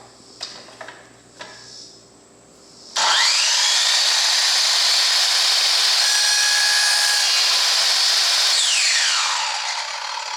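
A power saw spins up loudly and cuts a small piece off a board in a DIY woodworking project, whining steadily for several seconds before winding down, after some brief handling knocks.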